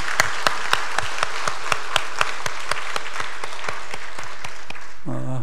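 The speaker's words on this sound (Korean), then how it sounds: "우리 박수로 격려하겠습니다." Church congregation in a Korean service giving a round of applause, heard as a steady series of sharp, evenly spaced claps that thin out, followed by a brief sound at the very end.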